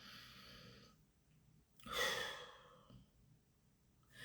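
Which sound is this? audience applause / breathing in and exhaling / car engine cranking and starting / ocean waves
breathing in and exhaling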